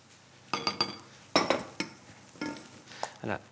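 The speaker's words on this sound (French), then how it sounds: "Je vais prendre une maryse pour bien récupérer toute la vanille qui est dans le fond de ma casserole." A silicone spatula scrapes vanilla from the bottom of a saucepan in a series of short, close scraping strokes with faint clinks against the pan, several distinct bursts spaced irregularly and no talking.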